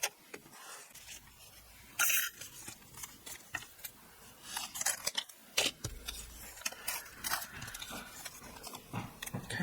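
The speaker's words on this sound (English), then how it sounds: "Stephanie's dies do cut through 2 layers of cardstock." Cardstock run through a die-cutting machine twice, two layers at once: close, crisp crackling and ticking mechanical clicks and rustles, with louder bursts near two and five seconds, moderate and alone without talk.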